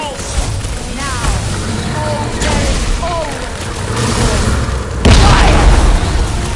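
Boom balls blowing up in the Guardians of the Galaxy video game, heavy rumbling booms and bursts layered with combat noise, one sharp loud hit near the end, with character voices calling out over the action.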